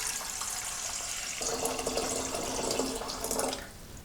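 Water is poured into a pot, two liters of it, for distilling oregano: a soft, steady splashing stream that deepens as it fills, then stops abruptly near the end.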